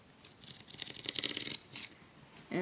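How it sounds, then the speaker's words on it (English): Scissors cutting a strip of duct tape lengthwise down the middle, a close, brief run of scratchy snipping and rasping that swells for about a second, then fades, with a louder handling noise at the end. "this trick is you just cut it right down the middle"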